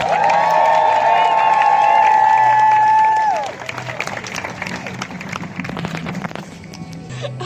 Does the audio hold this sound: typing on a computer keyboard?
no